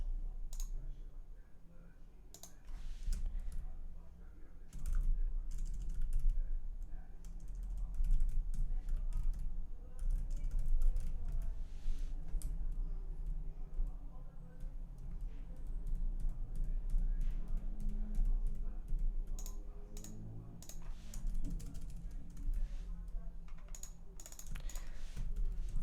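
Code is typed on a computer keyboard with scattered clicks and keystrokes spread over a low, steady background hum, intermittent and fairly faint.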